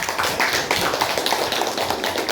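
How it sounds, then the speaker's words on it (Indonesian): Classroom applause from students at an Islamic religious education lesson, a dense steady patter of many hands clapping together, fairly loud and close, with no talk over it. "Baik, tepuk tangan."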